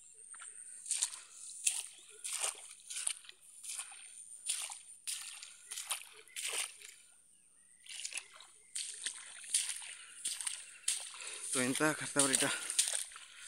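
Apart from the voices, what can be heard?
water sloshing in a flooded field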